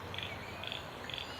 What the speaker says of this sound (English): I didn't dub in those crickets there.